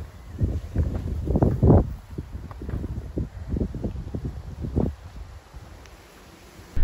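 Strong wind buffets the microphone on an island-dotted Swedish coast in Bohuslän, a steady rumbling roar rising into heavy gusts, with a loud burst at the very end.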